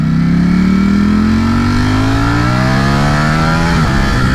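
A Ducati StreetFighter V4S motorcycle engine revs hard and close, its loud, steady roar climbing in pitch as it accelerates through the gears.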